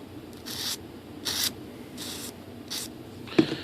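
Repeated rasping strokes of a sanding block, four short bursts at a steady pace, close by, followed by a light knock at the end.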